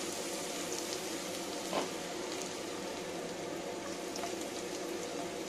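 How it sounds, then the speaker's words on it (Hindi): Chopped garlic frying in oil in a pan for restaurant-style palak paneer makes a steady, soft sizzle with faint crackles and pops throughout, no talking. "एक दो मिनट तक चॉप गार्लिक को फ्राई कर लेंगे"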